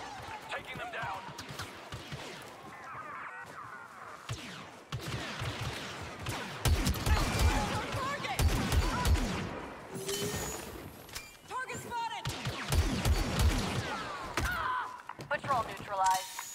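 Blaster fire during an ambush in Star Wars Battlefront II, repeated bolts and impacts mixed with explosions and game effects, under ongoing character dialogue.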